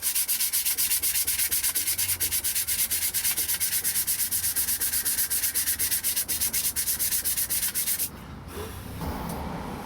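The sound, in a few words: sanding a homemade guitar body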